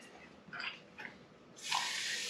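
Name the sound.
rinsing a glass with running water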